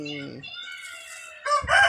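Chickens cluck and squawk nearby in a short burst while being fed food scraps, with a rooster-like call rising toward the end.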